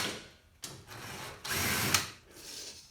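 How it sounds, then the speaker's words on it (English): A screw is driven back in at the top of a Bosch washing machine's front cover with a power driver, giving a few short, close whirring bursts separated by brief pauses. "Refit the screw at the top."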